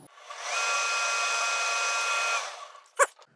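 A drill with a 5.5 bit boring into a carburetor after a broken pilot tip, a steady whine of about two seconds that spins up and winds down, close, followed by a brief clatter.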